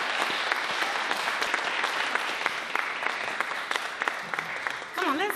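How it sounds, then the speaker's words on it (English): A crowd at a graduation ceremony applauds continuously with dense, steady clapping close by, ending as a voice starts to speak. "let's give him another round of applause"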